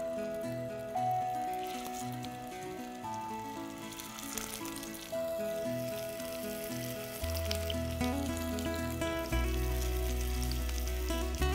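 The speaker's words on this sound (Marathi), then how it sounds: "आपण जे कटलेट केलेले आहेत आणि ते चपटे केलेले आहेत, आता ते आपण घालूया, कारण तेल तापलेलं आहे" Flattened semolina cutlets shallow-fry in hot oil with a soft, continuous sizzle under steady background music that grows louder toward the end.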